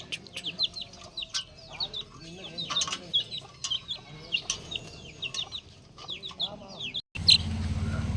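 A young chick with a digestion problem, whose food is not digesting, gives rapid high chirps and clucks in quick repeated bursts, close by, ending in a short loud rustle of noise.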